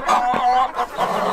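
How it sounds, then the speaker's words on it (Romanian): Chickens cluck and a rooster calls up close, a busy run of overlapping bird sounds with no talking. "Cocoșul e agresiv"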